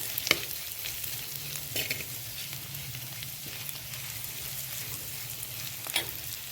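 Grated papaya thoran is stirred in a pan with a faint sizzle, broken by occasional sharp scrapes and clinks of the spoon against the pan, heard up close with no talking.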